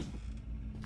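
Creaking door swinging shut in the Granny 3 horror video game, a single close, loud drawn-out creak with a low mechanical groan, heard on its own without speech.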